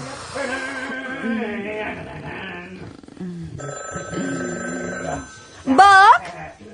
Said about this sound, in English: The phone. Should I get it?